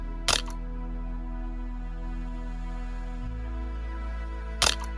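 Camera shutter sound from an OPPO Find X9 Ultra phone in Hasselblad XPan-style ultra-wide mode, two crisp mechanical shutter clicks several seconds apart over a quiet steady hum.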